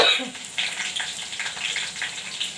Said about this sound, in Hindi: कड़ी पत्ती डाल रहे हैं इसमें तड़के